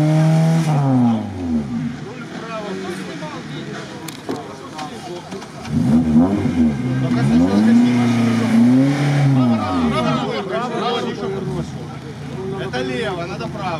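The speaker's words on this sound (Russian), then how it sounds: "Теперь попробуй в таком положении газонуть назад." An off-road car in a winching competition revs hard while reversing with its wheels turned left, the engine surging up and falling back twice, loud and close, with voices calling out over it.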